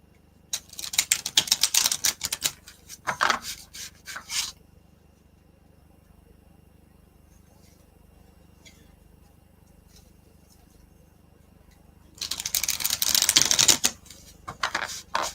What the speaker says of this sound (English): I'm just shuffling my cards here.